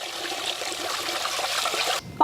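Tender coconut water trickles and splashes steadily as it is drained from the nut for a village-style kheer, a continuous close pour that stops abruptly near the end.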